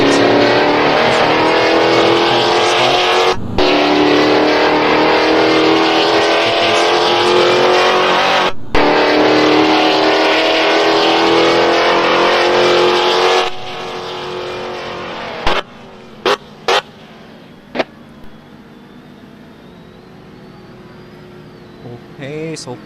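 Race cars at the Augusta Raceway start accelerate in a loud, dense roar of engines, sustained for most of the stretch, then dropping to quieter passes with a few sharp bursts near the end.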